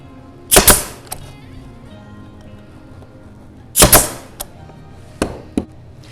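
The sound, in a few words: stapling wood for a bat house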